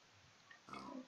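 A Minecraft pig gives a brief, faint oink near the end of a quiet stretch of survival gameplay.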